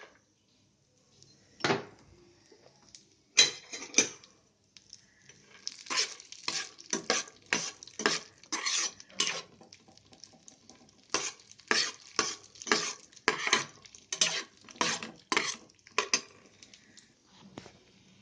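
Cashew pieces fry in a pan, heard as a run of quick scraping stirs and clinks of a spoon against metal over a faint sizzle, in rhythmic bursts close by.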